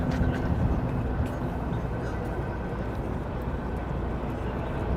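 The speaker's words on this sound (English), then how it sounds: "what's that helicopter doing?" A helicopter hovers over New York City, a steady broadband rotor and engine rumble holding constant and fairly loud throughout, mixed with faint street noise.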